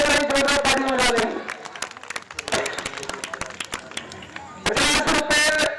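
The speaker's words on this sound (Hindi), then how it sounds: "इनके लिए जोरदार तालियां बजा रहे हैं।" A crowd at a Ramlila stage performance breaks into applause, with bursts of clapping rising and falling around an announcer's voice over a loudspeaker.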